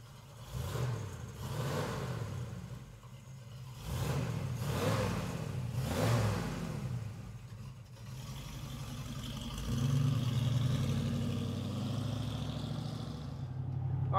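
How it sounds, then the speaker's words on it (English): A restomodded 1951 Chevrolet 3100 pickup with a 350 small-block V8 drives along, its engine revving up and easing off in repeated surges, a steady mid-level rumble with no voices. "we're now out driving this beautiful Chevrolet pickup truck."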